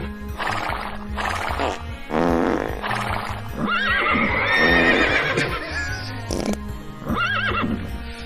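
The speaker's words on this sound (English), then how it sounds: "It's a horse ghost." A ghostly horse in Pokemon Legends: Arceus lets out loud, wavering neighs and whinnies over rhythmic hoofbeat clip-clops, with a brief pause and a final shorter whinny near the end.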